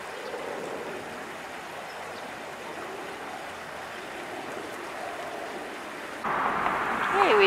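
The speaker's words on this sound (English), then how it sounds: "And this is the lower waterfall." Water flows steadily over the lower waterfall of a rain-fed creek, a continuous soft rushing noise that swells louder near the end as a bird chirps.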